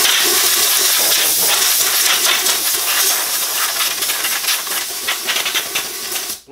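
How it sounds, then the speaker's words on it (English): Air compressor nozzle blowing metal dust out of a freshly cut Rinnai Ubbink concentric vent pipe, a loud continuous rushing hiss with rattling bursts, close and alone, fading at the end. "compressor."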